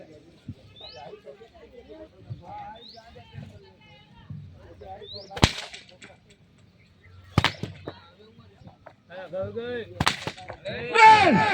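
Three sharp, loud cracks of firecrackers go off nearby several seconds apart, just before Diwali, between stretches of voices and chirpy background sounds.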